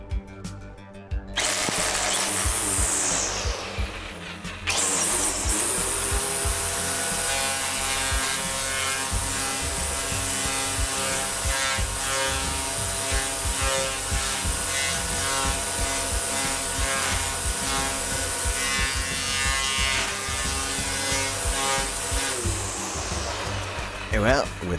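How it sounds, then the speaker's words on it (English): A regular string trimmer runs steadily at full speed for about twenty seconds, a dense buzzing whine with a brief dip near five seconds, loud and close, with some talk mixed in. "test out the same approach with a regular string trimmer"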